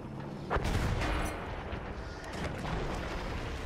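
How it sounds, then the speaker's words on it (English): Bombs dropped on a tank in Battlefield 1 burst in a loud sharp blast followed by a long rumbling roar that fades, then swells again as more low explosions roll in, with no voices. "I'm bombing this tank that's up here."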